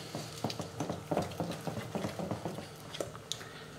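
A thick onion fritter batter being stirred by hand in a bowl, giving a steady run of close, wet clicking and scraping strokes with no talk.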